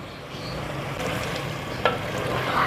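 Taro root and mutton curry sizzling and being stir-fried in a clay pot, a steady moderate frying hiss with occasional scraping clinks and no talk.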